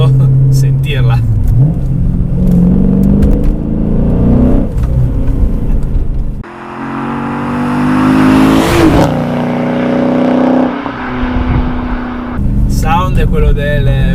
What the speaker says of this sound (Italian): È quello del V8 tipicamente americano che ti aspetti di sentire ogni volta che schiacci sul gas.